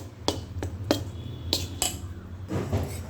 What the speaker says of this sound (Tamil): இதை அந்த மாவோட சேர்த்துருவோமே பாருங்கள் இட்லி இட்லி மாவில் இதை நம்ம சேர்த்துட்டோம் இதை நல்லா கிண்டிக்கிறோம்